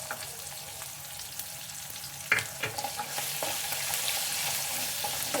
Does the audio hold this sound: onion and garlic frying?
yes